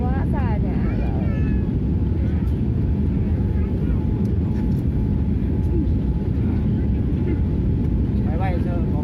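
A passenger airplane landing, its steady loud engine roar and rushing noise continuing throughout, with a nearby voice talking over it.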